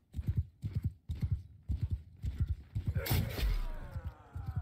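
Horse hooves gallop in Mount & Blade 2: Bannerlord, a steady rhythmic clip-clop of repeated beats, loud and near, with a brief burst of battle clatter and creaking partway through.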